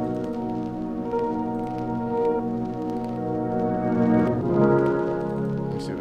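Sustained synth chords from Analog Lab for a beat, soft and held with gentle swells and a faint pluck-like texture, playing alone at low volume.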